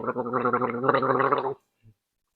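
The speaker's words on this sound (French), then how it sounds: "Je vais faire mon fou, je vais me gargariser avec ou quelque chose" Someone gargles Jarritos watermelon soda up close for about a second and a half, a bubbly throaty rattle that stops abruptly, followed by a faint swallow.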